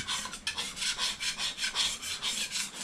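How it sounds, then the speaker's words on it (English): Rhythmic rasping scrapes, roughly four per second, as a tool is dragged back and forth scraping old coating off a Mitsubishi Evo X valve cover, close and steady with no talking. "I'll just keep scraping away at it"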